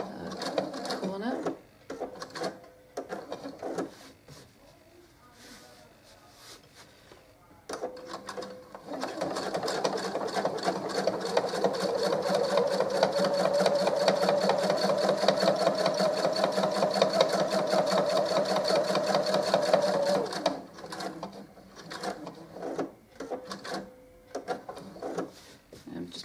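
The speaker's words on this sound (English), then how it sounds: "Do that around all sides until you get back to where you started." A sewing machine stitches around the edges of a fabric coaster, a fast rattling hum that runs steadily for about twelve seconds, with shorter stitching bursts and handling noises before and after.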